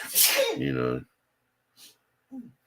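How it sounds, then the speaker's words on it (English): A woman sneezes once, a sharp close burst with a voiced tail, followed by quiet and a couple of faint breathy sounds. "She's sneezing."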